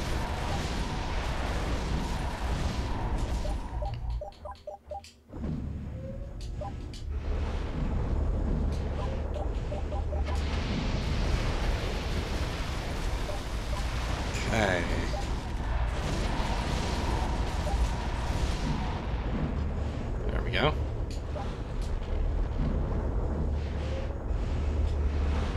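Gun towers firing in the strategy game Defense Grid 2, a dense, continuous barrage of rapid shots and impacts layered over a busy game soundscape, with only a brief lull partway through.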